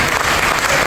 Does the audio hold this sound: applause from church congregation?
yes